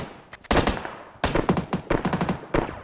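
Bursts of automatic gunfire in PUBG Mobile, loud and close, one short volley followed by a longer rapid string of shots, with no talking.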